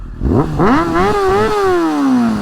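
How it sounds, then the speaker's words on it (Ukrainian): A Honda CBR600 F4i motorcycle exhaust revs up sharply with a throaty roar, the pitch climbing and then easing into a steady idle, close by. "Звук вихлопної."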